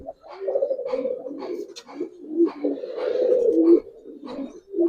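Giribaz pigeons let loose give repeated soft, throaty coos in close succession, near and fairly clear, with a brief higher chirp and only faint background movement.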